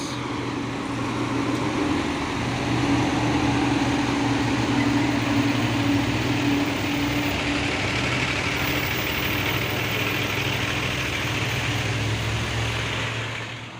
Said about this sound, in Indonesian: Dan ini juga ada satu unit truk Fuso oren 6x2 220 PS turbo intercooler melewati tanjakan Bukit Kodok di pagi hari.